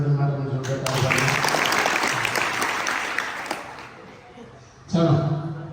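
Classroom applause breaks out at a school quiz competition, a burst of many hands clapping close by for about three seconds. A voice speaks before and after it.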